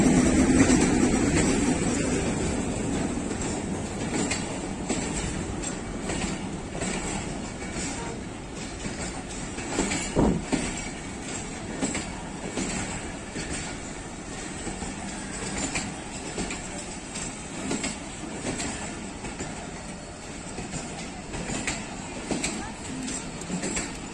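Pakistan Railways 13UP Awam Express pulled by locomotive PH20A315 arriving at Rawalpindi station: a steady rumble of rolling wagons with faint clacking over about twenty-four seconds, distant and under crowd chatter.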